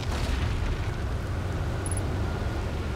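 In the Outer Wilds video game, the final orbital probe cannon module launches into orbit around Giant's Deep with a loud, sustained rumbling roar, steady and unbroken throughout.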